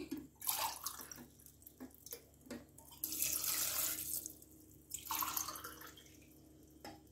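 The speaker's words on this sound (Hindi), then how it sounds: "तो चार गिलास हम पूरे पानी के डाल देंगे" Water pours in several bursts into a pot for bael (wood apple) juice, splashing and gurgling between short pauses, close and fairly quiet.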